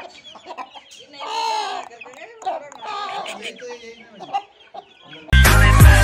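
Roosters and chickens at a rural farm plot in Haryana cluck in short bursts while someone talks over them, before a sudden loud burst of noise cuts in near the end.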